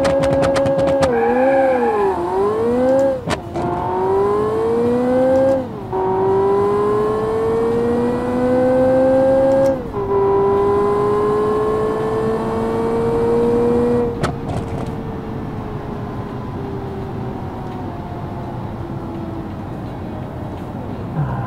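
The Beatos V8 car in Automation accelerates hard through a quarter-mile run, its engine note rising and dropping with each gear shift, then fading to a steady, quieter drone.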